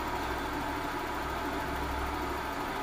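A car engine idles, treated with engine seal coat and slightly thicker oil, giving a steady, close, even hum with no variation in rhythm.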